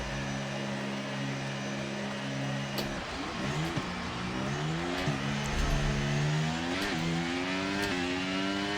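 A Formula 1 race car engine in the F1 23 video game revs at the race start, a loud sustained whine that climbs and drops through repeated gear shifts, with other cars roaring around it.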